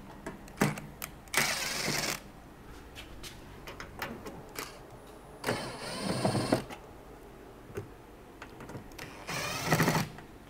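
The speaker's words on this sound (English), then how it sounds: "I'm going to go ahead and take out the 10 screws holding this top on." A power screwdriver with a Phillips bit backs out screws from the top cover of a Rheem hybrid water heater, giving several short whirring bursts separated by pauses, plus faint clicks and handling noise nearby.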